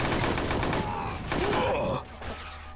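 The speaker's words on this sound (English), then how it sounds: "Got a nice firefight there." Gunfire in a firefight in the video game Lego Men of War, set in World War I trenches, with dense overlapping shots and bursts forming a loud continuous clatter, easing slightly toward the end, with faint voice-like groans mixed in.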